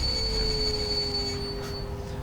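An ET25 electric freight locomotive in the SimRail train simulator slows toward a stop, wheels squealing in sustained high tones over a steady rail rumble that fades slightly near the end.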